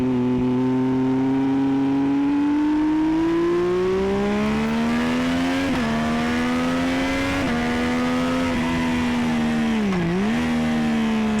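A car engine on the Donington Park circuit during a novice trackday, held at steady throttle through the hairpin, its loud droning note rising gradually with brief dips as revs shift, heard continuously and close with no talk.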